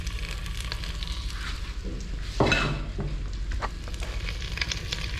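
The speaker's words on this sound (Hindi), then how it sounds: "तो अब सबसे पहले हम बिस्मिल्लाह करके इसके अंदर ये चिकन डाल देते हैं।" Chicken frying in hot oil in a pan for a desi chicken recipe, a continuous close sizzle with stirring and scraping, and a louder burst of crackle partway through.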